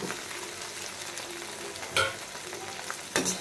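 Tamarind and tomato sauté in a hot pan with a steady, close sizzle and fry, broken by two louder scraping stirs of the spoon, and no voices.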